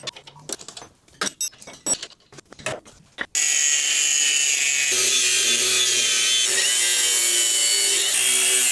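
After a few scattered knocks and clatters, a power tool starts cutting out a weld on a Volkswagen Beetle pan mount, a loud, steady, high-pitched grinding whine held close up for several seconds.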